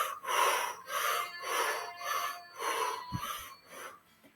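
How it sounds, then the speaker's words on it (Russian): Rhythmic forceful breaths of the Sneezing Buddha kriya, a Kundalini yoga breathing exercise, repeat in a steady series of about eight bursts, close and fairly loud, with no talking. "это дыхание нас очень успокаивает"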